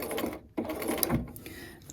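A sewing machine stitching a seam while an invisible zipper is sewn, a few stitches forward and then back, giving short whirring mechanical bursts nearby.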